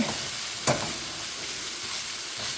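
Food sautés in a pan with a continuous, even sizzle and one brief louder clatter of stirring near the start; close and moderately loud, with no talking.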